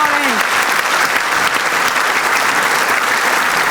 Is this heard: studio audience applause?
yes